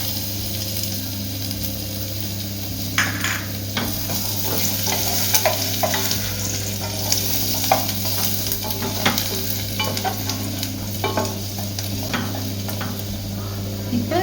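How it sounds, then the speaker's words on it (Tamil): Chopped garlic frying in a pan, a steady close sizzle with occasional stirring scrapes throughout, no talking. "சின்னதாக கட் பண்ணி அதையும் ஃப்ரை பண்ணிக்கலாம்."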